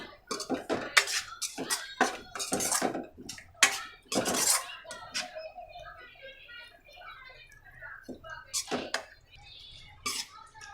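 Okra curry with yogurt is stirred in a pan, with repeated loud clanks and scrapes of a spoon against metal at close range and a voice talking intermittently over them.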